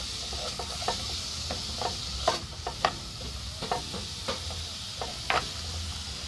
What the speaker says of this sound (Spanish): Dejamos cocinar nuestra cebolla.